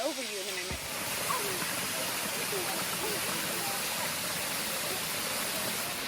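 Steady broadband rush of a small waterfall after heavy rain, continuous and fairly close, with a brief voice near the start.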